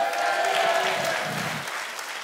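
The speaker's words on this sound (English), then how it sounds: "Give the Lord a great big hand clap." A church congregation claps together in a sustained, dense wash of applause that holds steady and then fades slightly toward the end, with no speech over it.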